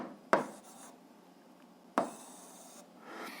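A math fraction being written out by hand, two distinct pen strokes scratching on paper about a second and a half apart, quiet and close with near silence between them.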